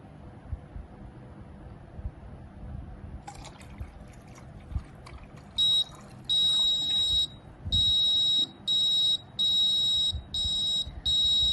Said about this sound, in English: the buzzer will turn on